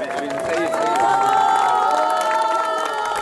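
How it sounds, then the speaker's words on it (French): A large crowd cheers and shouts at the finish of a sailing race in Saint-Gilles-Croix-de-Vie, a dense, steady roar of many voices with whistles and calls close by throughout. "La foule des grands jours à l'arrivée à Saint-Gilles-Croix-de-Vie"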